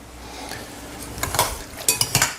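Hot pasta is tossed with mozzarella in a pan, giving soft stirring scrapes followed by a few sharp metallic clinks of a utensil against the pan toward the end.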